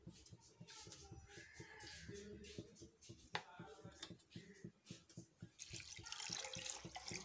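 Water is poured into a pot of a quarter kilo of cleaned clams with turmeric, splashing and trickling steadily at close range amid small clinks of kitchen utensils.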